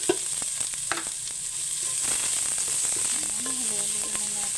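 Garlic, ginger and onion sauté in a hot pan, with a steady close hiss of frying broken by scraping knocks of a spoon stirring, running throughout.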